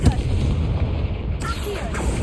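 A Confringo blasting spell in Hogwarts Legacy hits a precarious hanging object, giving a deep, booming explosion with a rumbling tail over game ambience.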